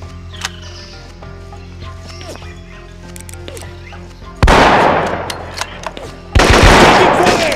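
Two loud, close bursts of automatic gunfire in the PC shooter Marine Sharpshooter 2, each a dense crackling volley following a quieter stretch of ambient game sound, with a voice heard in the clip.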